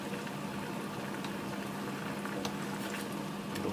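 Noodles and sauce simmer in a pot, a steady close bubbling hiss with scattered soft pops that runs unbroken throughout.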